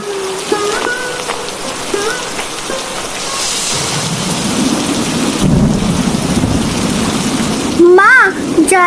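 Thunderstorm with heavy rain in a cartoon: a steady rain hiss builds into a deep rolling rumble of thunder, while people speak and music plays over the storm.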